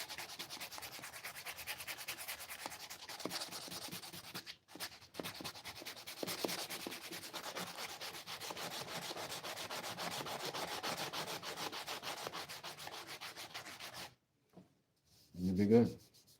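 Steady wet sanding on a knife blade, a continuous close rubbing rasp with a brief pause partway through, ending with a short louder scrape after a moment of near silence.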